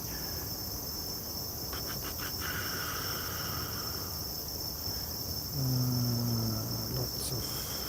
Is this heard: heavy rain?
no